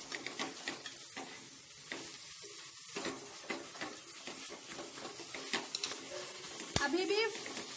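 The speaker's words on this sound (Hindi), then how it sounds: "अब हम इसमें खीमे को ऐड करेंगे। खीमे को भी मसालों में भून लेंगे" Minced meat, keema, fries in spices in a pan, with a steady sizzle and repeated scraping stirs throughout. There is a sharper clank near the end, and a faint voice can be heard at times.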